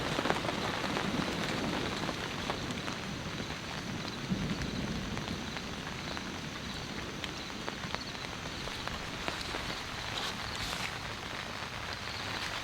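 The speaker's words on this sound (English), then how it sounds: "It's raining again, everyone." Steady rain falls during a powerful storm at a campsite, a dense even hiss of drops hitting surfaces for the whole stretch, fairly soft and constant, with no voices.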